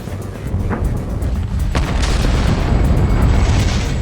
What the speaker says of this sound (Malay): We have a report from the flight dynamics officer that the vehicle has exploded.